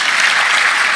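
A church congregation claps together during a sermon, producing a dense, steady wash of applause that holds at full strength through one brief second.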